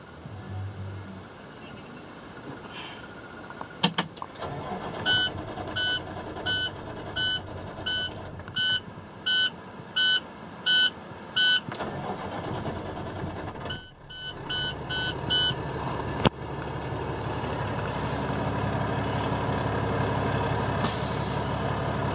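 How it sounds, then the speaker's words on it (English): A 2008 International 7600 truck with its diesel engine running at a steady idle, overlaid by a long run of evenly spaced electronic beeps and a sharp air-brake hiss, close and without talk. "The vehicle starts right up."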